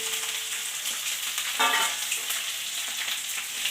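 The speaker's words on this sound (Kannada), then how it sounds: "ಹಾಕೊಂಡು ಚೆನ್ನಾಗಿ ಫ್ರೈ ಮಾಡ್ಕೋಬೇಕು" Onions fry in a pan with mustard seeds and curry leaves for a Karnataka-style bendekai palya, giving a steady, close hiss of sizzling oil with a brief stirring scrape partway through and no voices.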